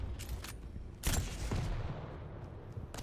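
Shotgun blasts in a competitive arena shooter match at the KeenCon tournament, a few sharp reports spaced out over steady background game noise, moderately loud with no voices.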